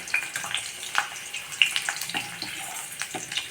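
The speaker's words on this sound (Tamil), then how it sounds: "நல்லா சூப்பராக டீப் ஃப்ரை ஆகிடுச்சு பாருங்கள்" Ivy gourd pieces deep fry in hot oil, a continuous crackling sizzle with scattered pops and bubbling, close and moderately loud with no talking.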